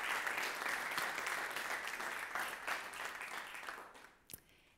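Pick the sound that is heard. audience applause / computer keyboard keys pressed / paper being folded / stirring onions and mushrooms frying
audience applause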